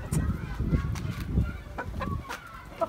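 Aseel roosters cluck on a farm in Mianwali with several short, throaty clucks in an irregular rhythm, close by and moderately loud, mixed with a faint human voice.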